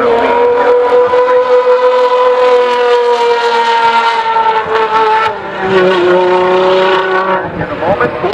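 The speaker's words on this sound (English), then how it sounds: "Ferrari cars on the racetrack" Ferrari racing car engines scream at high revs close by on a racetrack, their pitch sliding steadily downward as the cars rush past.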